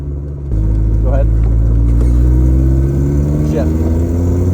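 A lightweight 90-horsepower project car with a manual gearbox revs up loudly and close as a first-time driver works the clutch, the engine note climbing and holding, with voices talking over it.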